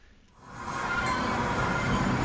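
A train rolling into a large railway station in a video game, its low rumble swelling quickly from near silence into a steady, full roar of rolling wheels.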